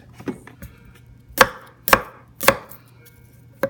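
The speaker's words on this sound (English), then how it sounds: "Again, we're just going to rough cut these." A knife roughly chops vegetables on a board for chicken Marsala, with three sharp, loud chops in steady rhythm plus a few lighter taps before and after.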